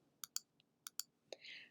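A computer mouse clicks several times in quick, sharp, close taps while notes are placed in the BeepBox music editor, ending in a short soft rustle.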